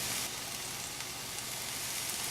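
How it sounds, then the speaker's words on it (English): Shallot frying gently in ghee over a low flame, a steady soft sizzle and crackle that holds evenly throughout with no talking. "So now I'm adding the shallot to the ghee."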